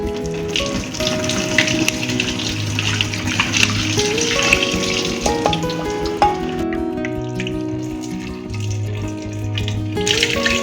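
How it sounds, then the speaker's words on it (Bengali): Water drains steadily from homemade chhana, the fresh curdled-milk cheese, in a home kitchen, giving a continuous close splashing and trickling flow with small gurgles throughout. "এবারে ছানাটাকে জল ঝরিয়ে একটা পরিষ্কার কাপড়ে রেখে দেব।"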